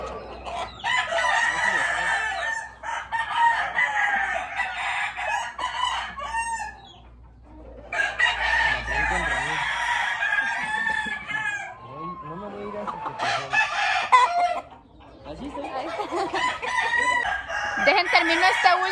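Several roosters crow and cluck at a poultry yard, with repeated loud crows in bursts, some overlapping, and short gaps of quieter clucking between them.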